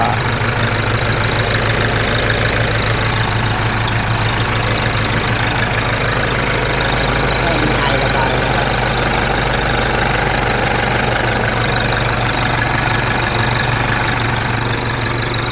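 A used tractor engine with a five-blade, 24-size wet-sleeve-free base idles steadily and loudly up close, a continuous low rumble with mechanical knocking and vibration throughout, no talking over it.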